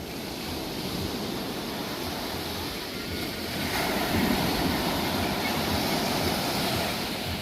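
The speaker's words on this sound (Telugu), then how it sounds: "నువ్వున పెద్ద అలలు వస్తున్నాయి దా" Big ocean waves roll in at Puri beach, a constant roaring surf wash mixed with wind buffeting the microphone, swelling a little louder partway through.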